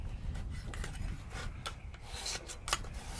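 An aluminum hand scraper edge is sharpened with repeated rubbing, rasping strokes, a quiet close series of short scrapes in an irregular rhythm.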